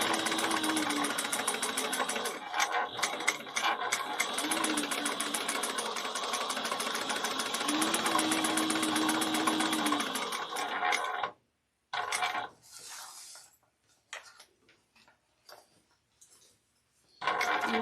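A sewing machine top stitching a Kandu bag runs in a long, steady mechanical whir, then stops and restarts in several short bursts before falling silent.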